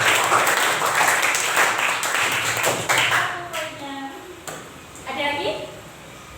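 Classroom applause, a group of students clapping hands loudly and steadily for several seconds, fading into scattered claps with some murmuring voices underneath.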